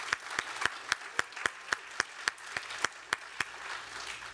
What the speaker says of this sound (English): so we'd like to give them a round of applause as well